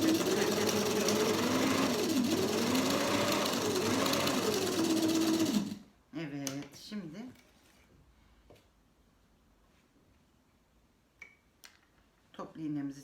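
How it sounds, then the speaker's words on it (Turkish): A sewing machine stitches a skirt zipper at home, running steadily for several seconds with a continuous whirring hum, then stops, followed by scattered clicks and handling noises. "Dikiş makinesinin evde olması da çok iyi bir şey."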